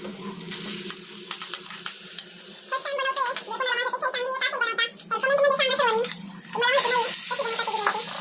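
Chicken cooking with ginger-garlic paste in a pan for chicken biryani, a close, steady sizzle and stirring scrape running under a person talking throughout.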